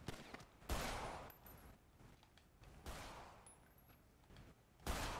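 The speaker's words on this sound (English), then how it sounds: "Let me shoot him in his foot" Gunfire in a role-play video game, with several sharp bursts of shots standing out loudly above a quieter, hissing background.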